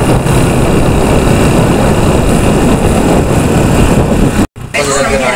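A motorcycle engine runs steadily, heard up close from a phone clipped to the bike, with a loud continuous drone and wind noise that cuts out briefly near the end.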